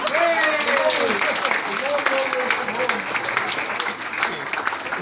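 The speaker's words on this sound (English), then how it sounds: "Round of applause!" Loud audience applause at the BSSG Symposium 2014, dense clapping filling the room throughout with cheering and shouted voices mixed into the crowd noise.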